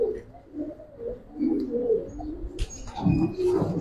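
A female silver Giribaz pigeon gives soft, low, repeated coos close by, followed by a brief rustle and a louder burst of cooing near the end.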